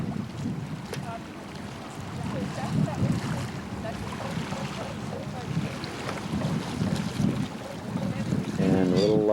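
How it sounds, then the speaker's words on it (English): A small boat's engine hums steadily as it heads out from a waterfront in Norway, amid wind buffeting the microphone and water lapping, with faint voices in the background. "Small boat going out."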